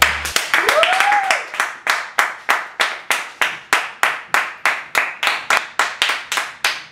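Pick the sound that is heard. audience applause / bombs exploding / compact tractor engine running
audience applause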